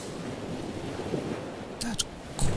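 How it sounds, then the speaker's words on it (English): Gentle ocean waves wash softly toward the shore under light wind noise, a steady low surf with a couple of brief swells near the end, fairly quiet throughout. "The very calm ocean sounds."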